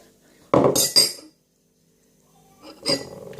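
A spoon clinks against a bowl or cup while filling is spooned out for a homemade juggling ball, two close bright bursts of clatter, then a pause and another short clink.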